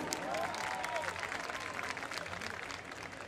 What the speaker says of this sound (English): let's give and welcome all of them with big round of applause first.